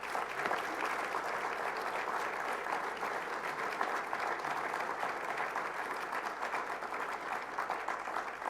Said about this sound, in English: I ask you to pay tribute to them with a round of applause